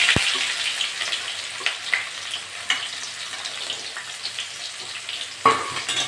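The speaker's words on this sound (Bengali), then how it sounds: "পেঁয়াজটা একটু ভেজে দেবো।" Onions sizzle and fry in hot oil with panch phoron in a pan, a steady close crackle broken by a few stirring scrapes.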